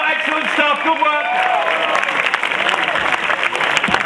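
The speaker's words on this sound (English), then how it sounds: "let's have a round of applause for Pharrell Williams" A crowd applauds at a London Halo 3 launch event, with clapping and cheering building under a voice that talks over it at first before the applause carries on alone.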